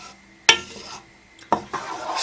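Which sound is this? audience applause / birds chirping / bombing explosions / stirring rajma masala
stirring rajma masala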